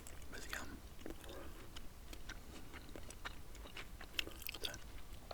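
PK chewing gum is chewed close to the mic, with soft wet clicks and smacks repeating irregularly, quiet and intimate, while faint whispering can be heard now and then.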